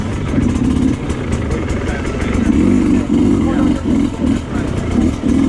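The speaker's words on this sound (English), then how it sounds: "Alright, back out on the Sherco 250. Doing another little run here." A Sherco 250 two-stroke motorcycle is ridden on a demo-day run, its engine buzzing and pulsing continuously up close with rises and dips in revs throughout.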